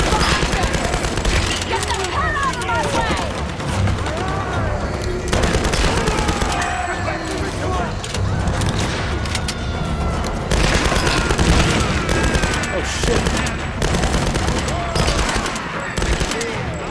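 Bursts of rapid machine-gun fire and scattered shots ring out in the Tomb Raider game, loud and near, recurring in dense volleys across the whole stretch with a few booms mixed in.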